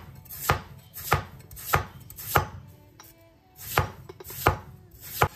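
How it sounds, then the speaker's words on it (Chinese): A knife slices a peeled potato into thin slices on a board: about eight crisp, evenly spaced chops with one short pause midway, close and clear with no voices. "再将削过皮的土豆给它切成薄薄的厚片"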